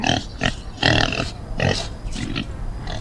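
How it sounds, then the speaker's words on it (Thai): A farm pig grunts and oinks in several short, loud bursts with gaps between them, close to the listener, with no talking. "pig หมู"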